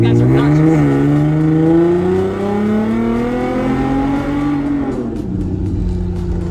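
A modified Datsun 521 pickup truck's engine revs loudly and close, its pitch climbing steadily and holding before dropping away near the end, with a voice briefly audible over the roar.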